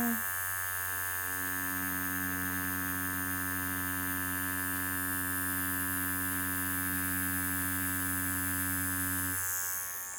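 A Mast Racer Pro tattoo machine runs with a steady electric buzz and hum, constant and fairly loud for about eight seconds before stopping, with no talking.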